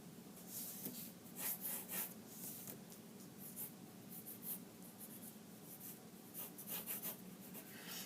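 Pencil or marker scratching across paper in quick strokes and scribbles, drawing shapes for a craft teepee, soft and close with uneven bursts of rubbing and no voices.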